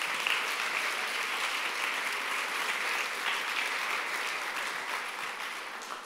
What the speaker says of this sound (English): So would you give Liz a really big warm round of applause?